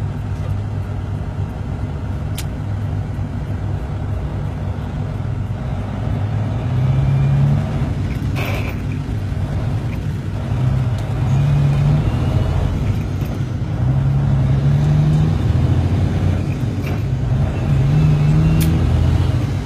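A Peterbilt 379 truck engine with an 18-speed transmission drones steadily and loudly from inside the cab, its pitch rising and dropping in repeated cycles as it runs up through the gears.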